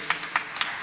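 Church congregation clapping hands during a Tamil worship service, a few distinct claps in a quick, even rhythm over a faint background.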